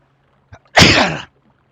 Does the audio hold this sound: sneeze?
yes